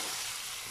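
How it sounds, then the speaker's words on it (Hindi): Onions frying for biryani in a home kitchen, a steady broadband sizzle that stays even and close throughout the short moment. "यहाँ पे हमारी बिरयानी के प्याज फ्राई हो रहे हैं"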